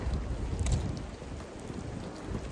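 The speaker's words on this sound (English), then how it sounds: "It's pouring rain out" Heavy rain pours down outdoors in a dense, steady roar of drops, with a deep rumble underneath that swells briefly early on. No one speaks.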